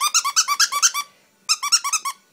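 A squeaky dog toy squeals in a rapid run of about eight bright squeaks, goes quiet briefly, then gives another quick burst of six squeaks, close and clear.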